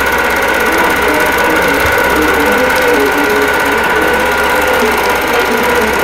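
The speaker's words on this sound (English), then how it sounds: "We're going to be sewing up from the inner border on the right side all the way across the top center" A sewing machine quilting a wholecloth quilt runs steadily and loudly throughout, with a constant close mechanical hum and rapid needle chatter.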